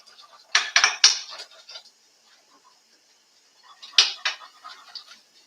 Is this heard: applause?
no